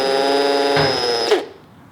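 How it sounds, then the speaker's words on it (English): A power drill turns a thread tap at slow speed during a Ford S550 Mustang roll bar install, a loud steady motor whine with a shift in pitch partway through, then cutting off abruptly as the drill stops. "I can fit the tap on my drill. If I like just go real slow,"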